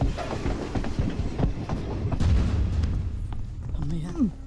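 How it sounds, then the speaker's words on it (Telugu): A moving train rumbles and clatters in a film comedy scene, a continuous low rolling noise with rhythmic clacks while people talk over it. "ట్రైన్ మూవ్ అయిందా?"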